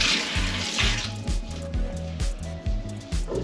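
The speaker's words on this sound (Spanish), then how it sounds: "Lavamos el perejil." Fresh parsley rinsed under a running kitchen tap, a steady close splash of water in a sink with soft rhythmic patter as the leaves are moved through the stream.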